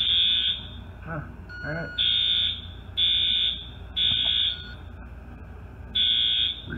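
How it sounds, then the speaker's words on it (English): An industrial fire alarm sounds during a system test, a loud pulsing horn repeating in roughly one-second bursts with short gaps, while people talk briefly in the background. "There's your alarm."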